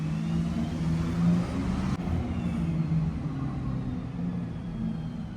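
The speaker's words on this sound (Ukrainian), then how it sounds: "Як звучить авто теж." An Audi Q4 e-tron electric car drives along with a steady low road rumble, moderately loud from inside or nearby, with no talking.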